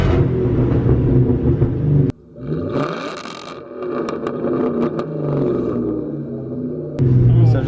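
A 600+ hp Cobra sports car launches at full throttle from a two-step, its engine roaring loud and close inside the cabin, with a sharp change in tone partway through and voices faintly underneath.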